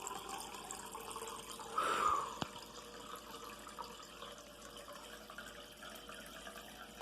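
Water from a household tap at night while refilling a drink, a faint, steady hiss of running water with a brief louder gush near the start, low in level and with no voices.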